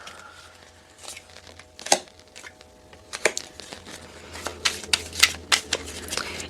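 Tarot cards are shuffled by hand at close range, making irregular crisp riffling bursts that grow denser toward the end, with no talking.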